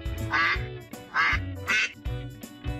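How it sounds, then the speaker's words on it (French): A duck quacks repeatedly, about four harsh nasal calls in quick succession, close and clear with no other sounds. "Canard."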